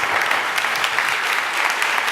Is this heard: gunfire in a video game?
no